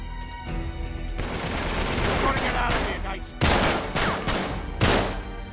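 Video game gunfire from Uncharted 3: Drake's Deception on PS4, dense bursts of rapid shots and heavier booms overlapping in a loud, continuous firefight.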